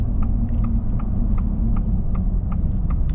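A Ford Super Duty diesel pickup with a 10-speed transmission cruises along, heard from inside as a deep, steady, loud engine and road rumble with faint regular ticking over it.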